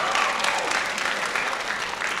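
Senior students at a project graduation event clapping together, a steady, full round of applause from a crowd in a large room that holds loud without pause.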